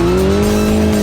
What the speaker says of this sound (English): braking hard